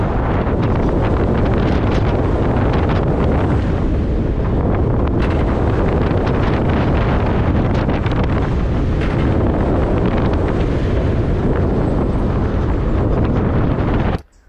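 Roller coaster loaded with plush teddy bears running along its track, heard as a loud, continuous roaring rush with heavy wind buffeting throughout, cutting off abruptly at the end.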